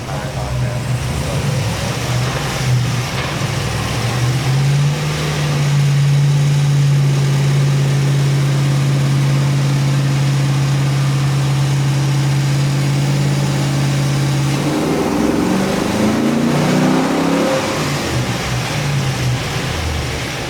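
A GM LS3 430 HP crate engine, 6.2 liter, runs on a dyno, idling loudly, then holding a steady high-rpm drone during a half pull before dropping back with sweeping revs to idle.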